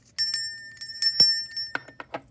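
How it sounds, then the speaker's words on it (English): A small bell is struck sharply several times and rings with a bright, lingering tone, followed by a few quicker, softer taps, close by with no talk. "Let's ring the bell."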